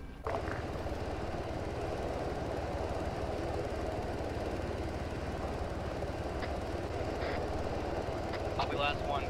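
Steady helicopter rotor and engine drone in the military shooter Arma as a team boards the chopper, a continuous loud hum with faint voices talking over it.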